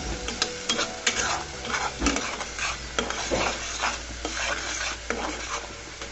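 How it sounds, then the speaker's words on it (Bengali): A spoon stirs tomato paste and spice mix in a pan, giving repeated scraping and clinking strokes over a soft, continuous sizzle, close and moderately loud, with no talking. "দিয়ে আমি মশলাটাকে ভালো মতো নেড়ে চেড়ে নিচ্ছি।"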